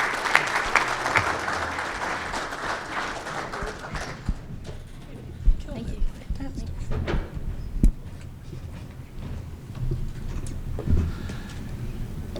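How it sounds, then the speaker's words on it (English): Applause from an audience at an education summit and annual meeting, strongest in the first few seconds as a dense clapping wash, then thinning into scattered claps and room noise while talk carries on faintly. "Give them one more big round of applause."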